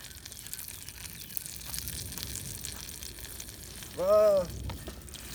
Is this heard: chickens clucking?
no